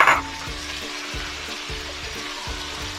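Crushed coconut is stirred into cooked Kerala aviyal vegetables, a close steady sizzle with rhythmic scraping strokes of a spoon against the pot, repeating about every half second.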